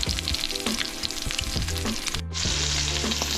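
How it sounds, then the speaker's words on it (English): Venison shanks brown in a pan with a steady, close sizzle and crackle of frying, joined by occasional scraping and stirring sounds. "we'll just get them all browned up all the way around"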